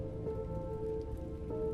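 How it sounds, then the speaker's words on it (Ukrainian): Rain falls steadily outside a window at night, a soft, even patter heard faintly from indoors with a low background hum and no voices. "тільки дощ посилився, ніби хтось шепотів за вікном"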